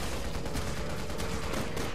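Enemy gunfire in the Resident Evil 6 video game, a dense run of rapid shots that keeps going for the full two seconds at a steady, loud level with no talk.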